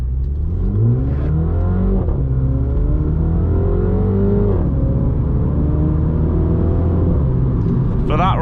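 A Mini John Cooper Works accelerating hard on an open road, its engine rumbling and revving loudly up through rising pitch sweeps with brief dips between gears, steady and close throughout, with a voice talking over it.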